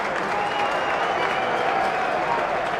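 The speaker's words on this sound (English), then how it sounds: "you can hear the cheer from the crowd." A cricket crowd at Lord's during a Middlesex versus Essex T20 match gives a steady, moderate cheer and applause, heard from a distance with no pauses.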